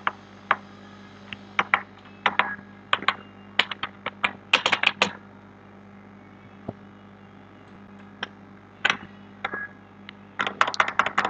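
Clicky computer keyboard typing in quiet bursts of quick keystrokes, with a pause in the middle before another short flurry, over a low steady hum.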